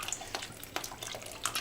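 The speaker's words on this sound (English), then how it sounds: "so now I'm going to add some wine" Wine is poured into gravy in a home kitchen, a faint, brief trickling splash with small liquid patters over a second or two.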